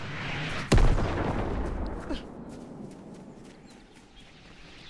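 An RPG blast in the video game Fortnite sounds as one sudden loud boom with a long rolling decay, followed by scattered distant gunshots, and a player's voice is faintly present underneath.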